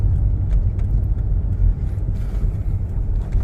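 A 2006 Toyota Yaris automatic with new tuning accelerates, a steady low engine rumble heard from inside the car with some wind noise and faint clicks, no voices.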